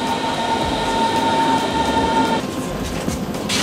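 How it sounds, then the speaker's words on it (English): A loud, constant rumble fills the interior of a moving train, with a steady whine that drops away partway through. "We're on the train at least."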